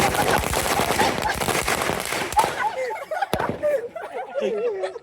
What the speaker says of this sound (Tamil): பட்டாசு வெடித்து ஒரு வீடியோ பதிவு பண்ணியிருக்கிறோம்